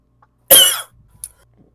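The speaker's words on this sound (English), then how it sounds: "just coughing" One sharp, close cough, followed by a faint short throat sound in a quiet room.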